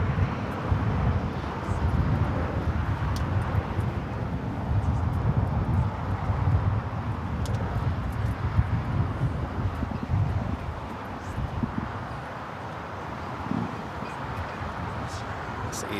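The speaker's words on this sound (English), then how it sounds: "This is Spirit Airlines 311 taking off to San Antonio on the A320." A Spirit Airlines Airbus A320 takes off at LAX, heard as a steady, heavy low roar with wind buffeting on the microphone that eases slightly toward the end.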